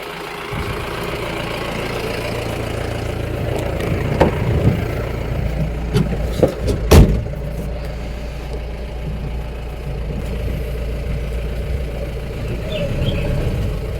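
A vehicle engine idling steadily while being parked, a continuous loud low rumble with a brief cluster of knocks and clunks midway, no talk.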